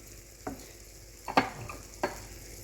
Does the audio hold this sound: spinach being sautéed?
yes